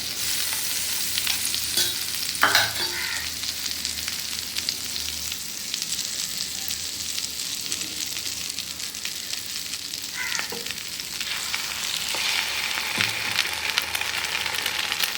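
Bread toasting in butter on a hot pan for a sweet bread sandwich gives a steady, soft sizzle throughout, with a few brief scraping and stirring touches near the middle and end.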